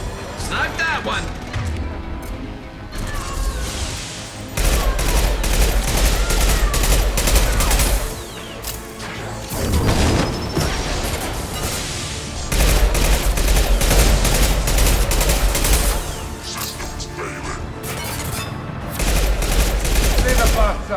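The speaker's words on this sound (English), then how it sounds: "Fire your impact shot." Rapid bursts of gunfire from the video game Mass Effect 2 during a mercenary base battle, dense volleys and explosive cracks repeating in loud waves with short lulls, under continuous talk.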